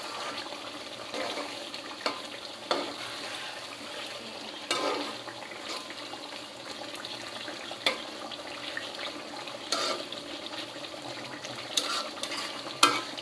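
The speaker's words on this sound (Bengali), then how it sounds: "রান্নাটা এখন আমি আস্তে করে নেড়ে দেব।" Potol paturi, pointed gourd in a mustard and poppy seed paste, gets gently stirred in a pan: a steady low sizzle and hiss with occasional soft scrapes and taps, close and quiet, no voices.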